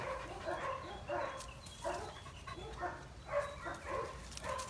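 A young working-line puppy in bitework training barks and whimpers in repeated bursts, close and fairly loud, with faint human voices in the background.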